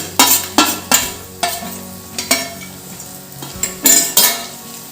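Ragi semolina stirred and roasted over low heat in a pan on the stove, with a series of sharp, evenly spaced spoon scrapes against the pan over a soft dry sizzle, close and fairly loud, no voices.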